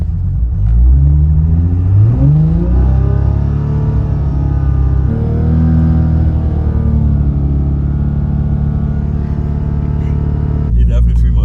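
A loud, close 1000HP Toyota Supra engine runs through a noise test, its deep rumble swelling and revving in steady rising pitches for the whole stretch, then cutting sharply near the end while a voice talks over it.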